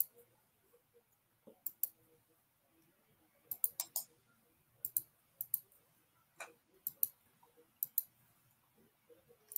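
Sharp computer mouse clicks sound in irregular bursts, single and double clicks with pauses, close and crisp against a quiet background while working in Embrilliance Stitch Artist embroidery software.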